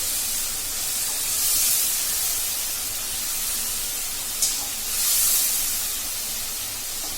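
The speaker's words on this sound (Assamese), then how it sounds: "অলপমান গোন্ধটো মৰালৈকে মই অলপমান এইখিনি ফ্ৰাই কৰিম" Masala spices with ginger and garlic fry in a pan for a fish curry, producing a continuous even sizzling hiss that swells slightly in places, with one small pop and no voices over it.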